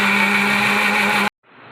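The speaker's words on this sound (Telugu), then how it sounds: "వేసుకొని మిక్సీ వేసేసుకుందాం." A mixer grinder blends green chutney with salt, giving a loud, steady, high motor whine that cuts off abruptly partway through, followed by a faint low rumble.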